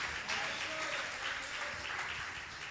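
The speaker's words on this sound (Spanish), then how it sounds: "Dele un aplauso al Señor." A church congregation gives a round of applause to God, a faint, steady wash of many hands clapping together with a low murmur of voices beneath.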